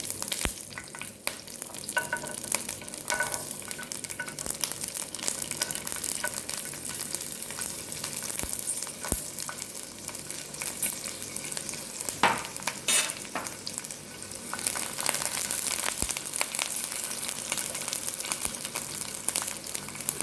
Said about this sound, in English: I'm frying the ginger and the garlic and the chilies together.